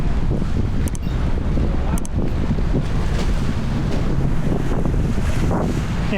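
Flood water surges into Piazza San Marco in Venice, a steady loud rush and wash of water heard outdoors, heavily buffeted by wind noise on the microphone throughout.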